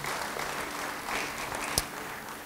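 A church congregation gives brief, soft applause during a sermon; the distant clapping is steady and fairly faint for a couple of seconds.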